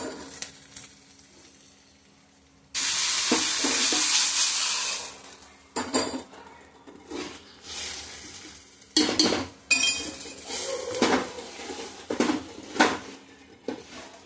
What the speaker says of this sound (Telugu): తాలింపు పెట్టేసి